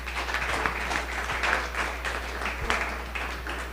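An audience applauds with a burst of steady clapping that continues for a few seconds, fairly close, under a low background hum.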